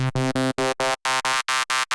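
A buzzy, harmonically rich Serum wavetable synthesizer oscillator tone played as short repeated notes, about nine quick pulses in a steady rhythm, close and alone.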